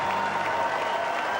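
A record crowd of over 36,000 at an Australian football stadium applauds in a sustained standing ovation, dense steady clapping filling the whole moment with no break.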